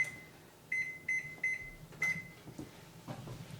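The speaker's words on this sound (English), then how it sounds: "I need to preheat my oven, so I'm gonna set it to 425" An oven's control panel gives four short, high electronic beeps in quick succession while being set to preheat to 425, followed by faint kitchen clatter.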